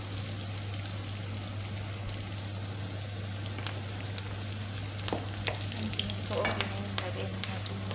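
Chicken for caldereta sizzles and fries in a pan, a constant crackling hiss with scattered pops and occasional stirring scrapes, close and steady over a low hum.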